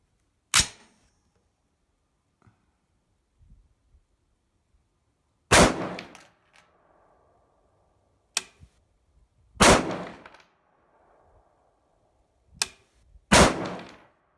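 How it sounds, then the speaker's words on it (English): Separate sharp rifle shots from a shooting bench while an optic is sighted in, five or six loud cracks spaced several seconds apart, each with a short echoing tail, and near silence between them. "Put a few more rounds in each magazine. So here we go again, 3 more rounds."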